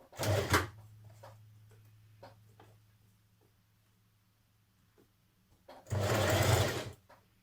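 A sewing machine stitches a neckband onto a jersey dress, with two loud bursts of running at the start and near the end and a low steady hum between them, plus scattered small clicks.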